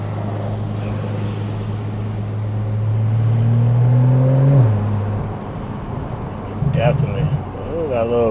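A Porsche 911 of the 992 generation with an aftermarket catback exhaust, in sport mode, gives a steady low drone that swells as it revs and then falls away, with a voice talking over it near the end.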